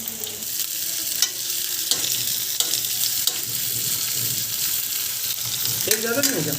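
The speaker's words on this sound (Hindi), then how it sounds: "तेल चढ़ा दिया कढ़ाई में और परवल को पहले फ्राई करेंगे।" Pointed gourd (parwal) frying in oil in a kadhai, a continuous close hiss and sizzle with occasional stirring scrapes and taps, steady throughout with a faint voice near the end.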